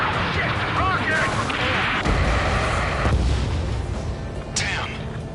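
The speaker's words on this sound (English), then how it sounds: "Rocket!" Rocket explosions in the Ace Combat 7 video game roll in as dense booming blasts over a steady din of battle noise, with game voices talking through it.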